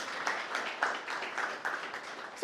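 A church congregation applauding, with a fairly faint, steady patter of clapping that pulses in a loose, regular rhythm across the hall.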